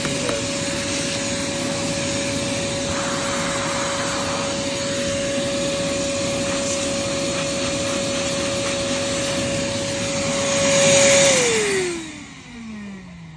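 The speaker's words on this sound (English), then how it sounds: "you can use your other vacuum" A Bissell CrossWave vacuum cleaner drones steadily at close range, its motor whine holding one pitch before surging briefly and then winding down as it switches off.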